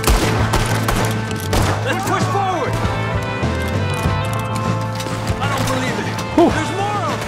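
Gunfire in the Red Dead Redemption 2 video game, a dense burst of overlapping gunshots amid galloping hooves and game noise, with someone talking over the action.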